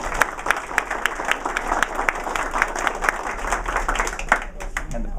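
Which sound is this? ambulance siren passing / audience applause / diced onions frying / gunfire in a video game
audience applause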